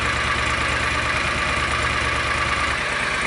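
A John Deere Gator 625i side-by-side engine idles with a DIY muffler fitted, giving a steady, continuous low rumble with a faint even pulse, close by and unbroken throughout.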